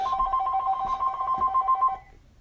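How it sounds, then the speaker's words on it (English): A telephone rings indoors with a trilling electronic bell in two bursts, fairly close and loud, then cuts off into quiet. "sorry for the phone ringing."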